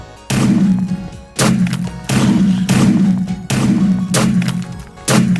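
Minecraft weapon firing flint ammo, a rapid series of about seven loud heavy thumping shots in a quick irregular rhythm, each with a short booming tail.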